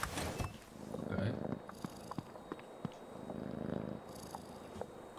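A cat purring in the horror adventure game Creepy Tale 2, a low rough rumble running through most of the passage with scattered soft clicks and game ambience, no talking.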